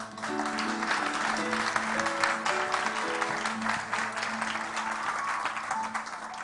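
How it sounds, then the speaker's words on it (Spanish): Audience at the Club Victoria Eugenia in San Sebastián applauds invited guests at a Zabaltegi film screening event, a steady dense clapping from a crowd filling the room for the whole stretch, with a background music tone running underneath. "agradecerles con un fuerte aplauso a todos ellos que hayan venido hoy al Club Victoria Eugenia"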